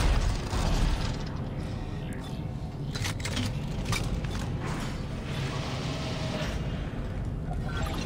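Elevator machinery during a ride in the video game Dead Space 2: a steady broadband mechanical rumble with creaking and grinding, continuous and fairly loud, with faint scattered clanks throughout.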